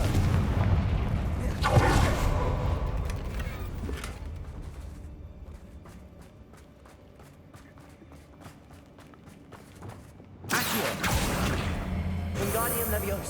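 Confringo blasting spell in the Hogwarts Legacy video game set in a mine: a loud booming blast with rumbling echo that fades, then a second sharp burst near the end over game ambience.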